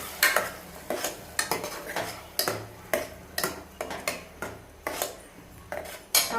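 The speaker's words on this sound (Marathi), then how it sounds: "कांदा टोमॅटोची प्युरी टाकायची। चांगली लालसर असा मसाला भाजून घ्यायचा।" A spoon stirs onion-tomato purée masala as it roasts in a pan, making a regular run of sharp clinks and scrapes against the metal, roughly twice a second, with a low sizzle underneath.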